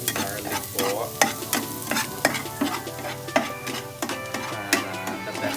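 Garlic sizzles and fries steadily in a pan while a utensil stirs and scrapes through it with repeated close clicks and knocks, no voices present.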